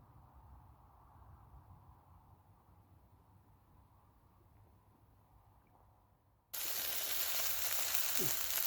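Carp bait cooking over small charcoal briquettes by a river, a steady broad sizzle that switches on abruptly and loudly near the end after a quieter stretch of low background noise.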